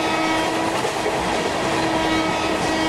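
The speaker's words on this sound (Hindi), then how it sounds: "वैफोर का ये वाला हॉर्न बजा के चलेंगे" A WAP-4 electric locomotive horn in the Indian Train Simulator game sounds as one long, steady, unbroken tone over continuous rumbling rail noise.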